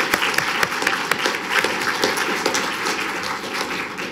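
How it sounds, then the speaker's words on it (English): Middle school spelling bee audience gives students a round of applause: sustained, moderately loud clapping from a crowd, with individual sharp claps standing out, continuing steadily for several seconds. "So let's give them another round of applause."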